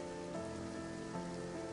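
Steady rain falls on a surface in a continuous, even hiss with no pauses, soft and constant throughout.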